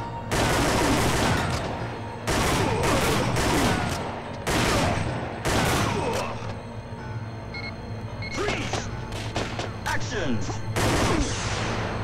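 Rapid bursts of gunfire from the Time Crisis light-gun shooter running on a PS1 emulator, loud and dense, repeated volleys separated by brief pauses.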